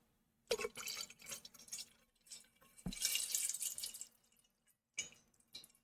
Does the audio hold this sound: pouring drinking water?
yes